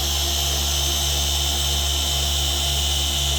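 Car paint polisher spinning on a pad, a continuous loud mechanical drone with a low hum and steady whir, alone and unchanging throughout.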